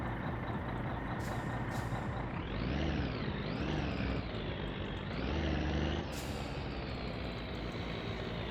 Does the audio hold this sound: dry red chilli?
no